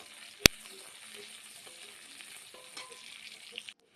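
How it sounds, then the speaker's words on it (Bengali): Chopped onions fry in hot oil left over from frying fish, giving a soft, steady sizzle. One sharp clack comes near the start, and the sound cuts off just before the end. "পেঁয়াজ কুচিটাকে গরম তেলের মধ্যে একদম লাল লাল করে ভেজে নেব।"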